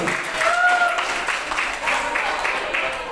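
Students in a high school classroom clap together in a short, steady burst of applause, with a voice briefly heard over the clapping.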